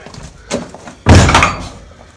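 A heavy door to an underground survival bunker and root cellar swings shut with a loud, solid slam and a short, rumbling settle, preceded by a softer knock or latch sound.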